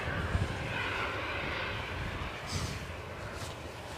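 Inbound airliner from Nice approaching Edinburgh Airport on a windy day, a steady broad jet engine roar at moderate distance, blended with gusty wind noise.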